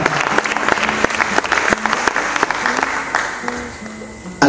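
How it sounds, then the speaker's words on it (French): A crowd at a Congolese film awards ceremony applauds in sustained, dense clapping, loud and close, with sharp individual claps standing out and a tonal hum underneath. "on l'applaudit pour l'encourager"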